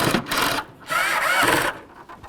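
Screws being tightened while a third brake light is installed on a 2008-2016 Chrysler Town & Country, two close, loud bursts of whirring driver noise separated by a short pause.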